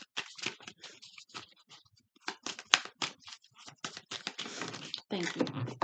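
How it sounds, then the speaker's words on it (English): Tarot cards are shuffled by hand in quick, soft, papery riffles and flicks, close and fairly quiet, with brief gaps between bursts. "I'll keep shuffling a couple more times."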